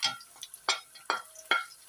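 Onions tipped into a pan of browned garlic and ginger while cooking dal chawal, giving short bursts of sizzling and stirring with light clinks of a utensil, four distinct surges close up and no talking.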